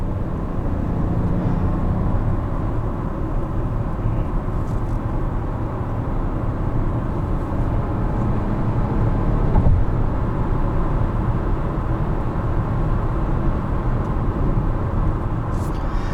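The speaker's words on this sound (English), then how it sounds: "And the 3-cylinder sounds fantastic." A Chevrolet Trailblazer RS with a three-cylinder engine drives along, its low, steady engine drone and road rumble heard from inside the cabin without talking.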